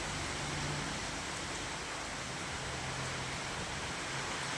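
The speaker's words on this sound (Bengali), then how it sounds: "এখান দিয়ে অনবত তো বৃষ্টি পড়তেই আছে" Heavy rain during a storm pours steadily outside a house, a dense, unbroken roar of hiss with a low rumble underneath, close and loud the whole time.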